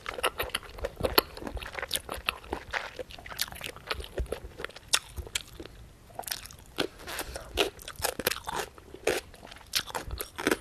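Close, loud chewing and biting of takeout malatang at spice level two, with dense crunchy bites and wet mastication repeating steadily throughout, no talking.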